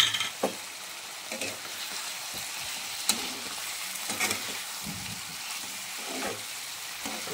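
Chicken kosha seasoned with garam masala stir-fried in a pan, a steady low sizzle broken by repeated scraping stirs of the spatula at a close, moderate level, with no talking.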